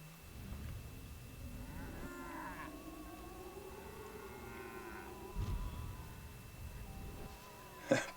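A long, low cow mooing call in the video game Destroy All Humans! rises and falls over a faint buzzing background, with a couple of soft thumps and a sharp click at the end.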